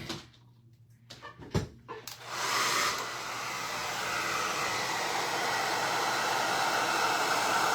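Hair dryer blowing on a diamond painting, switching on after a few clicks and handling sounds, then a steady loud whooshing hum held close for several seconds.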